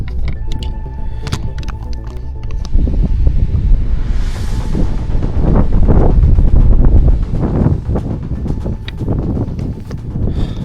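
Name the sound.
strong wind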